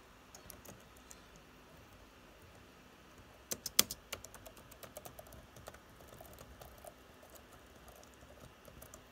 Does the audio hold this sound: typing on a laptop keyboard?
yes